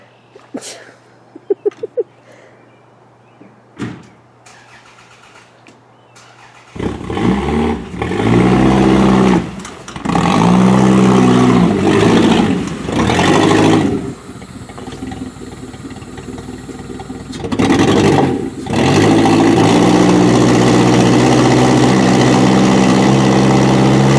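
A Solara demolition derby car engine starts, idles and revs repeatedly while put in reverse, loud and close, with a few faint clicks and thuds before it turns over.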